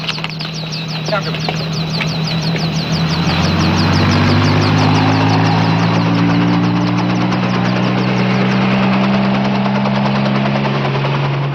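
A police patrol helicopter in flight drones loudly and continuously, its engine hum and rapid rotor chop steady throughout, with a voice speaking over it.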